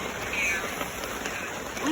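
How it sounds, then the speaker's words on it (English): Heavy rain pouring steadily on a camping tent, a dense close hiss that holds for the whole stretch. "It's like pouring rain out there."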